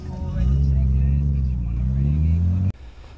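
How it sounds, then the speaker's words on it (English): A Mazda RX-7 FD idles loud and close at a busy car meet in Japan, its steady low rotary drone running for more than two seconds under nearby talk before it cuts off abruptly, leaving quieter background noise. "I didn't want y'all to miss out on the chance to hear an FD."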